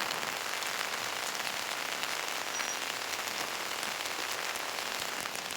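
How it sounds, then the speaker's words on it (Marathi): Steady, dense rushing wash of water from a monsoon waterfall in rain at Thoseghar near Satara, an even unbroken roar with no talk. "हा धबधबा आता प्रवाहित झालेला आहे"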